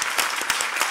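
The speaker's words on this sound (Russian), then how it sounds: "понятное дело, аплодисменты, друзья" A studio audience on a televised intellectual quiz show applauds, a dense, loud wash of many clapping hands filling the whole moment with no speech.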